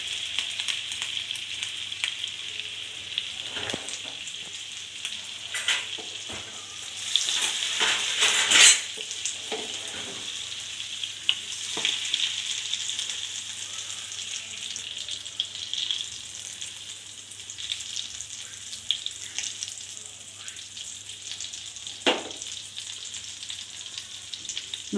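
Butter sizzling steadily in a pan on slow flame for paneer butter masala gravy, a continuous crackling hiss with occasional scrapes and taps of a stirring spoon, close and moderately loud.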